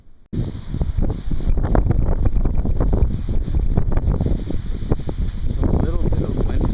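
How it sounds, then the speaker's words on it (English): Hurricane wind buffets an outdoor microphone with loud, continuous rumbling gusts that carry on throughout, with a person talking faintly under the roar. "So a little bit of wind picking up at least"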